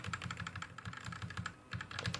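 Typing on a CIY X77 wired mechanical RGB gaming keyboard with wide, thick keys, a steady run of quiet, close clicks and clacks with brief pauses.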